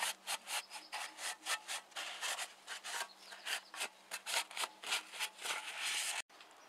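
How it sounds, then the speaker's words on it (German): A cloth soaked in nitro thinner scrubs the cylinder head surface of an Audi 100/A6 C4 in quick, rhythmic back-and-forth strokes, close and fairly loud, ending with a brief pause. "Auch die Gegenseite reibt ihr schön mit Nitro sauber."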